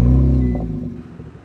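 A pre-production 2017 Kia Stinger GT with the optional sports exhaust gives a deep, loud engine rumble up close that gradually fades and thins over a second and a half.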